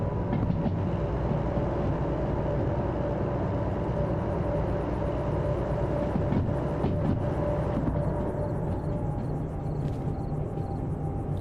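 A train rolls past in the railway simulator Derail Valley, a loud, steady rumble with rattling wagons that holds for the whole stretch without letting up.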